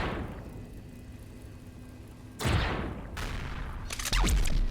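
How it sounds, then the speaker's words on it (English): Explosions from an enemy bandit base's turret and core blowing up in the space game Empyrion Reforged Eden 2, heard as two loud, near blasts with a rumbling crackle, over a low hum. "he exploded really nicely, didn't he?"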